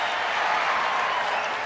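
A baseball stadium crowd of nearly 50,000 at a 2011 Rangers playoff game against New York cheers and roars in a dense, continuous wash of noise.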